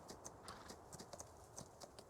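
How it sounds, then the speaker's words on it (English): Galloping horse hooves in the Farming Simulator 19 video game, a quick repeated clip-clop rhythm that stays steady and close throughout, with no talking over it. "Galloping around."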